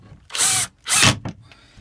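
A power drill driving a screw into a homemade wooden crab trap, two loud whirring bursts close to the microphone followed by a short third spurt, with no talking.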